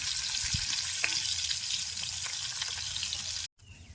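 Steady crackling sizzle of fish rubbed with turmeric, chili and salt frying in hot oil in a village kitchen, with a couple of light knocks before the sound cuts off abruptly near the end.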